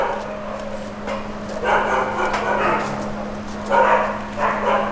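Dogs in sterilization recovery kennels at a sanctuary bark and yip in a loose chorus, several animals at moderate distance in bursts over a steady electrical hum.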